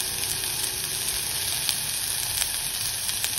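Asafoetida and turmeric frying in oil in a pan, giving a steady, even sizzle with faint stirring clicks throughout.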